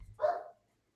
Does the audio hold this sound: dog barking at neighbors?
yes